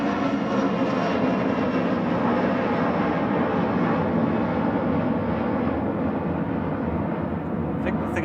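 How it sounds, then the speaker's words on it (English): An Embraer ERJ145 regional jet of Logan Air departs Manchester Airport, a broad, steady engine roar held loud and constant throughout, heard at a distance across the airfield. "ERJ145 for Logan Air departing now"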